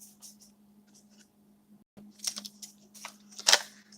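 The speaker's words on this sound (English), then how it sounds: "Cut that flap off." Scissors trim the flap off a handmade paper winter journal, with a few close snips and paper rustles that grow busier toward the end, over a low steady hum.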